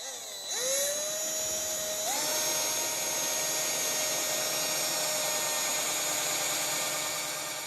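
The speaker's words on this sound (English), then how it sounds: "Drill through from the front of the door to the back." A power drill bores through a kitchen unit door, with a high whine that rises as it spins up, dips briefly under load, then holds a steady pitch close by.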